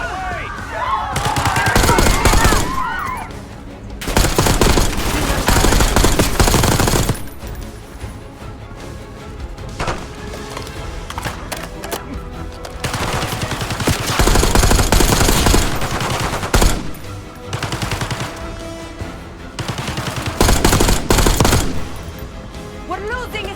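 Heavy automatic gunfire from enemies in Call of Duty Black Ops 6 campaign, loud sustained bursts coming in waves with brief lulls between them, with voices shouting in between.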